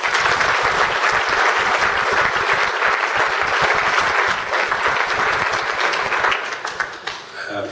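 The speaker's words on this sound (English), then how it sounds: "I think they all deserve a round of applause." Warm audience applause for the bands and singers at an awards night, thick continuous clapping that holds for about six seconds, then thins out and fades.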